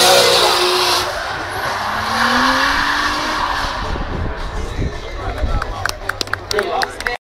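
Drift cars at a drift event in Raisio skid with long, squealing tires and roaring engines, loud and near, while a crowd murmurs and a voice talks throughout.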